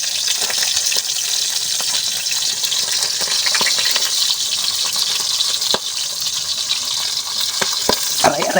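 Food fries in a pan with a steady, loud sizzle and crackle, broken by occasional sharp pops and spatters.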